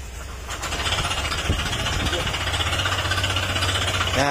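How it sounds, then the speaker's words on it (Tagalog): A Honda ADV160 scooter engine runs close up with a rapid, rough knocking rattle over a low hum, steady and fairly loud, and speech is faintly present. "Yan yung tunog ng kanyang makina."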